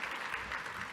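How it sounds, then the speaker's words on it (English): Continuous clapping from a conference crowd, sustained and even, a dense patter of many hands with no speech over it. "This is where you would applaud"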